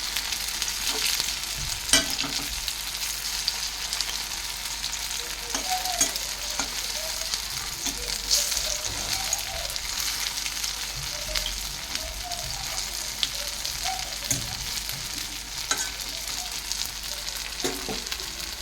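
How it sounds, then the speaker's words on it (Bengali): Malabar spinach leaf fritters fry steadily in oil, a continuous soft sizzle with occasional stirring scrapes and pops, close and even throughout with no voices. "সেই পুঁই শাকের পাতা দিয়েই আর কি সন্ধ্যাবেলাটা এই যে একটু বড়া মতো ভেজে নিচ্ছি"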